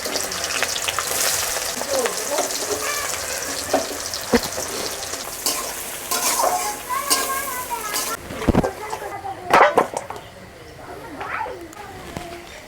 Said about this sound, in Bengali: ঘি গরম হয়ে গেছে পেঁয়াজ দিয়ে দিচ্ছি